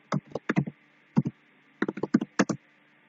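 Typing on a computer keyboard while entering text into a Microsoft Word 2013 document: close, quiet clusters of key taps in short bursts separated by brief pauses.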